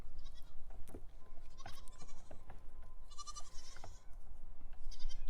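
Goat on a farm bleating in several short, loud calls spaced irregularly over a breezy outdoor background, with no talk.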